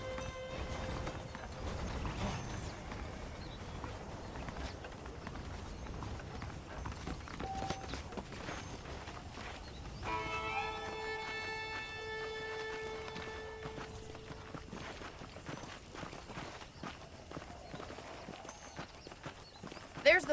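Horses' hooves clip-clop steadily in the Red Dead Redemption video game, soft and fairly distant under a man's speech, with mechanical rattling and game music in the background.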